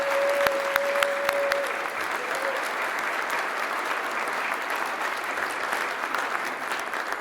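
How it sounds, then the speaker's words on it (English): Steady, dense applause from an awards ceremony audience at an EcoCAR EV Challenge event, sustained and fairly loud throughout with no speech over it. "Can we give them a big round of applause, please?"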